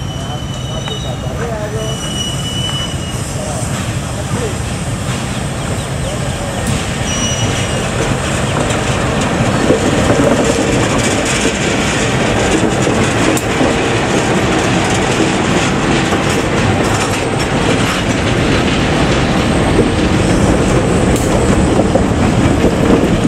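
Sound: rare BB301/BB304 locomotive being moved by rail

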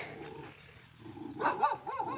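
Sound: dog barking

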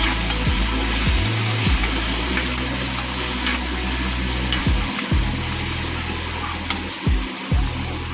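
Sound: stirring potatoes frying in a pan with turmeric and salt

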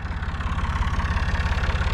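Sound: Massey Ferguson 255 tractor engine idling

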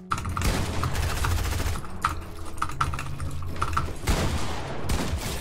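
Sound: gunshots in the video game Fortnite

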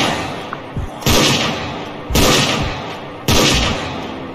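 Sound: SL86 gun firing in the video game Unturned

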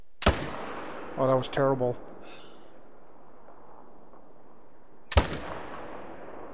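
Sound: AR .300 rifle gunshots while hunting

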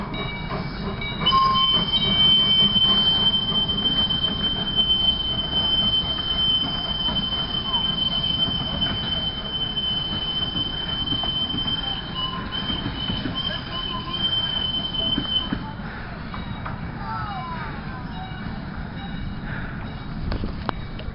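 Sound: train whistle

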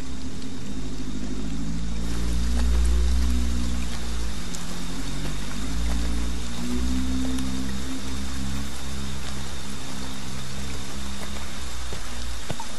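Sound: rain falling

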